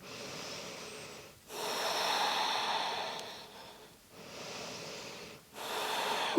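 Slow, audible breaths drawn in and pushed out through the nose during a yoga hip-opening pose, several long airy cycles separated by brief pauses, close and fairly loud with nobody speaking.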